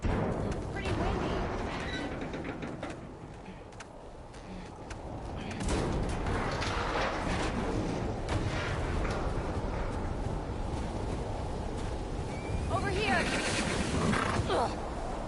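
Strong storm wind gusts roar steadily across an outdoor area in the video game The Last of Us Part II, loud and continuous with surges, while a person briefly speaks over it.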